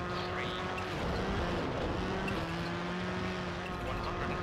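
Rally car engine droning steadily with gear-shift pitch changes in the video game WRC II Extreme on the snowy Rally Sweden stage, continuous and fairly loud with no talk.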